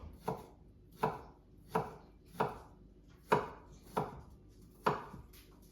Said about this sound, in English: finally cut the garlic up